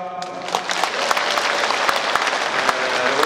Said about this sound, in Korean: 시장님께 무한한 격려의 박수를 부탁드립니다